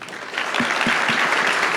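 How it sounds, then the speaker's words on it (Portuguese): Audience at a technical conference session on microservices breaks into applause, a few sharp claps building quickly into steady, fairly close clapping that continues to the end. "Uma salva de palmas aí."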